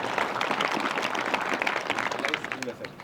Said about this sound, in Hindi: आप जोरदार तालियों के साथ में मन आ जाइए।